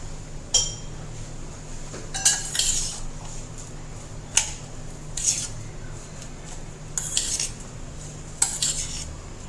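A spoon clinks against a bowl while grated carrot is stirred into pearl millet dosa batter. Several separate metallic taps ring out with quiet gaps between them.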